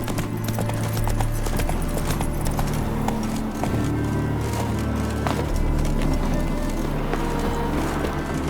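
Roach the horse gallops steadily in The Witcher 3, hooves clip-clopping in a fast, even rhythm over a low, continuous ambient rumble, close and prominent throughout.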